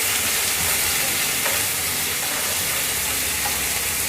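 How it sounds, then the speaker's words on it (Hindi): Fresh peas fry with onions in a hot pan, giving off a steady, dense sizzle and hiss that carries on unbroken throughout, with no voices. "इसको हम 2 मिनट के लिए फ्राई करेंगे प्याज के साथ।"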